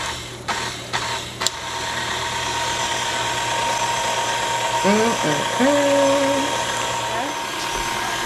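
A KitchenAid stand mixer, filled to the rim with two batches of carrot cake batter, runs with a steady close motor whine and slight rattles, while a voice briefly speaks over it.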